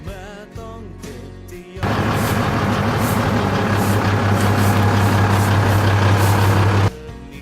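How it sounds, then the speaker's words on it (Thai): A heavy truck reverses into a parking bay during a heavy-vehicle driving test. Its engine rumbles loud and steady, and after a short idle it holds a constant drone for several seconds, then drops away abruptly. "ขับรถไปตามห้องที่กำหนดไว้จากนั้นให้ขับถอยหลังเข้าจอดโดยใช้เวลาทั้งหมดบ่เกิน2นาที"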